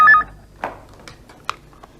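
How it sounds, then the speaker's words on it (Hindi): A telephone being dialed: a short tone followed by a few separate keypad beeps at uneven intervals, close and clear in a quiet room. "मीरा जी को फोन कर रही हूँ।"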